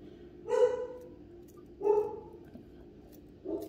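A dog barks three times indoors during a fly-tying session, each bark fairly loud and spaced well apart over a quiet room background.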